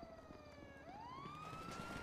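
A police patrol car siren wails in a clear rising and falling sweep, steady and fairly close, with no voices over it.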